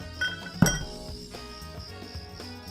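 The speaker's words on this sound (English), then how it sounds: "Grab a chilled glass and put an ice spear on the inside of it." An ice spear is set into a chilled cocktail glass, producing one sharp glassy clink over a faint background of soft music.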